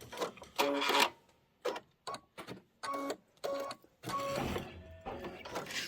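A sewing machine winds a bobbin in short, uneven bursts of whirring motor with mechanical rattling, separated by pauses and ending in a longer run, close but fairly quiet, with no talking.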